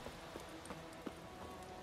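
Faint, distant hoofbeats of a horse clip-clopping in the fantasy game The Witcher 3, sparse irregular taps under a steady hiss of ambient noise.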